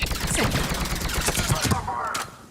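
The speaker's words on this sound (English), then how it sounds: "Is that a sniper rifle?" Gunfire in Mass Effect 3 multiplayer on PC, a rapid cluster of sharp shots and impacts filling the first seconds, loud and close, then tapering into quieter game noise near the end.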